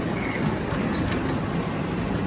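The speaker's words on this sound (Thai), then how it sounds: "ว้าวแล้วนั่งรถไฟไปถึงชายหาดเลย" A mini tourist train rolls toward the beach at a Thai beach resort, its steady rumble and rail noise filling the scene continuously at close range with no talking.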